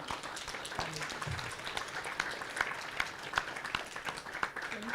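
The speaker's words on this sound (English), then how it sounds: "give a round of applause to the distinguished panelists." An audience at a regional policy workshop panel session applauds steadily, with scattered individual claps forming a continuous, fairly distant patter.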